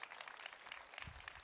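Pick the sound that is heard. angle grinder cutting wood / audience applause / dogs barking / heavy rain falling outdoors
audience applause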